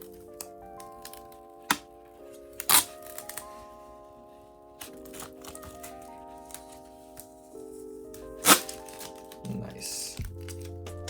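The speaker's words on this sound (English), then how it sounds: "I guess we'll take that film off." Protective film peeled off the back of an iPad Air 4 (2020): quiet crinkling and a few sharp crackles and ticks over a faint background tone.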